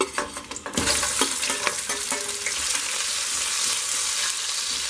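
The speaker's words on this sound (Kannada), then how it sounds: "ಈರುಳ್ಳಿ ಚೆನ್ನಾಗಿ ಫ್ರೈ ಆಗಿದೆ ನೋಡಿ, ಸ್ವಲ್ಪ ಕಲರ್ ಚೇಂಜ್ ಆದರೆ ಸಾಕು." Onions frying in ghee with cinnamon, cloves, cardamom, fennel, bay leaf, cashews and green chillies: a steady, close sizzle with a few stirring scrapes and taps early on, then even frying noise.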